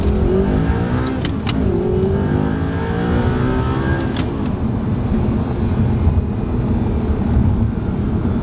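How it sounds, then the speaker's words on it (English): An Audi R8 V8 engine roars loudly and continuously as it accelerates hard, a deep sustained rumble with rising tones, close by and without speech. "you'll be able to really sort of hear the V8 sound"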